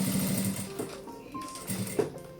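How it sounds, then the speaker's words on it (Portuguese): A sewing machine runs a securing seam along the two side edges of a small fabric pouch, with a close, quick mechanical whirr in short bursts and a brief pause partway through. "E agora eu vou passar uma costura de segurança nessas duas laterais."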